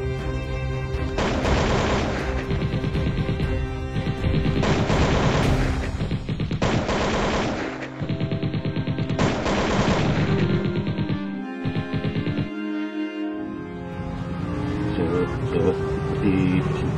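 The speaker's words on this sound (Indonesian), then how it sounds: "Seperti suara tembakan" Dense, continuous gunfire and explosive booms from a short war film roar loudly, with overlapping bursts and a few abrupt gaps, like a heavy battle heard up close.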